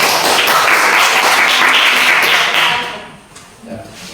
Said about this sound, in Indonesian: mari kita sama-sama berikan aplaus kepada kelompok 1